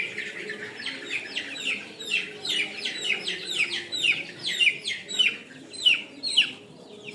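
Hybrid Sonali chicks on a poultry farm give repeated high, rapid chirping calls, a steady series of peeps close by over low farm background noise, with no talking.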